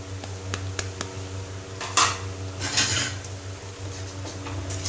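A spoon scrapes and clanks inside a kadhai as spices and salt are stirred and roasted for a cauliflower dish, with steady close stirring, a few sharp metallic knocks and a low background hum, and no talking.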